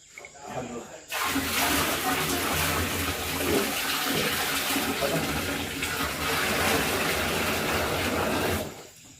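Water gushes steadily into a fermentation drum on a natural farm, a loud continuous pour that starts abruptly after a brief pause and cuts off near the end.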